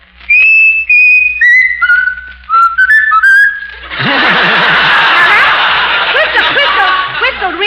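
Raffles the talking mynah bird whistles a tune in a string of clear, stepped notes that descend phrase by phrase, then a burst of audience laughter and chuckling breaks out and carries on.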